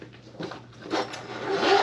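A short zipper on a Fjallraven Kanken backpack's laptop compartment rasps open in a few quick pulls, close and fairly quiet, growing louder toward the end.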